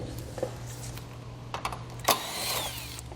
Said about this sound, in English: Now we can take a 10mm socket and remove these bolts.